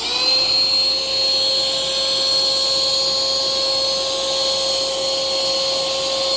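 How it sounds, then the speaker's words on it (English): Vogma electric dual-motor SUP air pump inflating the inner chamber of an inflatable kayak, a steady loud whining motor hum with high tonal whine, constant and close throughout. "right now we are inflating the inner chamber of the inflatable kayak"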